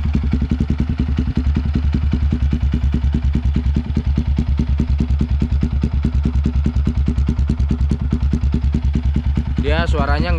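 A Yamaha WR155R motorcycle fitted with a Proliner XR-1 exhaust idles close by with a steady, loud, rapid low-pitched putter and slight clatter, continuous throughout, with a brief voice near the end.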